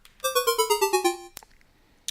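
A game-over jingle from a shooter video game: a descending run of about nine bright, electronic beeping tones in a steady rhythm, followed by a couple of short clicks and a brief burst near the end.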